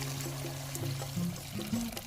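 Water added to a pot of meatball soup with misua and patola, a steady close pour with small gurgling shifts as the pot fills.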